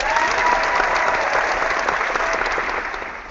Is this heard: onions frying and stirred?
no